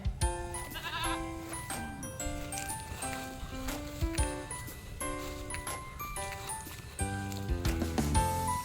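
Goats bleat repeatedly in wavering, nasal cries from a goat pen, several animals overlapping close by, with a steady low background rumble throughout.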